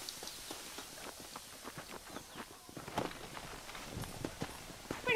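Horse hooves clip-clop in Red Dead Redemption, a steady rhythmic run of hoofbeats on hard ground, fairly near and moderately loud, continuing throughout with light ambient game sound behind them.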